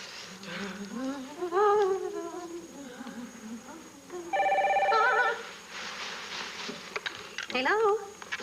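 Telephone ringing indoors, a brief burst of electronic ring around the middle, set among muffled talking voices and background noise.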